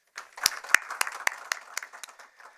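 Applause at a professorial inauguration, a small group clapping with sharp, distinct claps that start sparse, build into an uneven patter and thin out.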